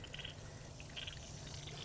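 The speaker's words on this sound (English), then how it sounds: "I'm slowly going to open these up, and I'm going to start venting water from my gauge" Water hissing and spattering as it vents from a five-valve backflow test kit gauge during a reduced pressure assembly test, a faint steady rush with small bursts of spray, close by and without talk.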